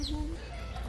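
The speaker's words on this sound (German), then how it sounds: "Das hier sind die Hühnerställe." Chickens in a hen house in a Thai hill tribe village give a brief cluck and squawk, fairly faint against low background rumble.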